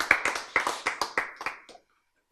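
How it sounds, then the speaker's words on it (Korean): Church congregation clapping during a sermon, about eight or nine sharp, rhythmic claps that gradually fade before stopping, followed by silence. "박수."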